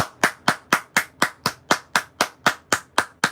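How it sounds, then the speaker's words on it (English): People applauding the Joker in a movie scene, with about a dozen sharp, evenly spaced claps in a steady rhythm, close and fairly loud. "They're clapping for him. Even the Joker's clapping."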